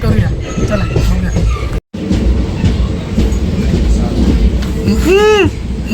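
A moving train interior on a pilgrimage journey rumbles steadily and loudly throughout, with a brief rising squeal near the end and faint background voices.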